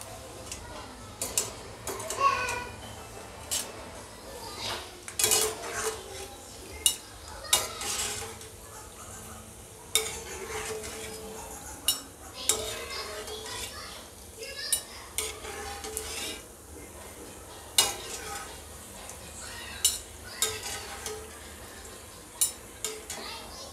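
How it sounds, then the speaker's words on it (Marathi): Fried peanuts are scooped out of a pan for a potato chivda, bringing repeated metallic clinks and scrapes of a spoon against the pan over a faint sizzle. "आता शेंगदाण्याला काढून घेते मी."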